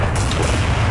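HE grenade explosion in Counter-Strike 1.6: a loud, dense, sustained boom filling the whole second, heavy in the low end with no talking.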